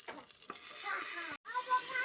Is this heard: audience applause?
no